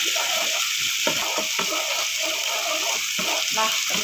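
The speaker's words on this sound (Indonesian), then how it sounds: "Lalu jangan lupa kita tumis-tumis seperti ini ya teman-teman ya, sampai baunya tercium ya" Spices for beef soup sautéing in a pan, a steady hiss of frying with faint scraping stirs, close and continuous with no talk over it.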